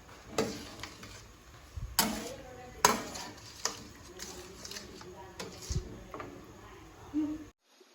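Malunggay vegetable dish being stirred in a pot with a utensil, giving intermittent scraping and clinking knocks at an irregular pace, close and moderately loud, while a voice speaks over it.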